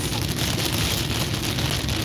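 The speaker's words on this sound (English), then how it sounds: "It is raining." Steady rain falls in a continuous, even wash of noise with no breaks, fairly loud and close, with nothing else standing out.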